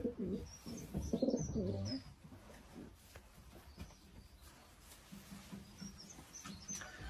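Homing pigeons coo in a few soft, low bursts close by early on, then fade under faint chirps and a quiet background as someone talks briefly.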